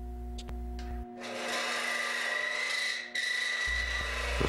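A woodturning tool cuts the outside wall of a turned wooden box, giving a steady, close scraping rasp for about two and a half seconds over a low hum.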